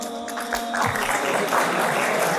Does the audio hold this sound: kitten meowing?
no